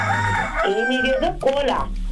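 A voice on a phone call mimics a chicken, giving a rising and falling crowing cry with clucking warbles, loud and close for about two seconds.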